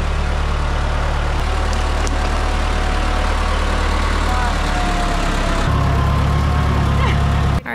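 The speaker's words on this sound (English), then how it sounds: "we each ride back down on the tractor" A tractor engine idles with a steady low rumble throughout, heard up close in the rainy Jamaican countryside, its note deepening and growing louder near the end as the throttle changes.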